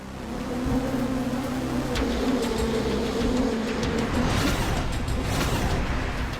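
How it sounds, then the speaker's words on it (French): A dense, droning buzz of a swarm of Africanized bees fills the whole stretch, loud and unbroken, swelling slightly with no voices. "Le bourdonnement s'amplifie de seconde en seconde, jusqu'à couvrir entièrement tout autre bruit."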